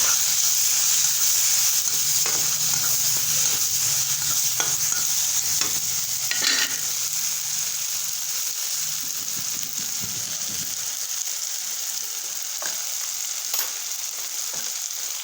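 Onion and tomato fry with red chilli powder and turmeric for a desi masala pasta, giving a steady close sizzle with intermittent scraping stir strokes, a low rumble fading midway.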